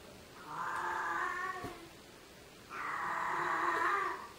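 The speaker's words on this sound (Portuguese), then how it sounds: "algumas vezes no dia, quando a minha gata tá no cio, Satanás habita ela um pouquinho e ela faz esses barulhos" A female cat in heat lets out two long, drawn-out yowls separated by a short pause, each loud and wavering, with no talking.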